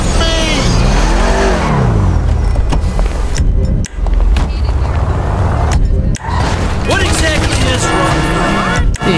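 A car speeding along in Grand Theft Auto V, its engine drone and game sounds running loud and continuous, with someone talking excitedly over it throughout.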